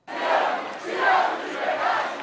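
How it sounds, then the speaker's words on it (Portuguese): Corinthians supporters celebrating the club's fifth Brazilian title at night in the streets of São Paulo, a continuous roaring crowd chant that swells and dips, loud and massed with no single voice standing out. "a fiel torcida corintiana tomou as ruas de São Paulo ontem à noite"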